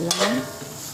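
A single short scrape of a utensil through arroz valenciana in a pan, close up, with a faint sizzle trailing after it.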